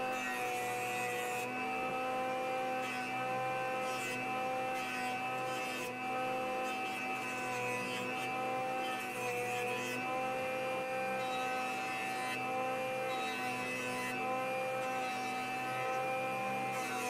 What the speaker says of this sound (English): Now I'll run the boards through a joiner to give them a nice smooth edge.